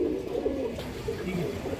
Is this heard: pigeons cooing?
yes